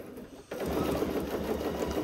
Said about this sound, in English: this is my first project sewing on this machine